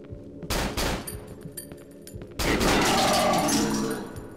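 Gunfire in the horror game Cry of Fear, with a sharp burst of rapid shots followed by a longer, louder volley that rings out and decays, all close and without talk.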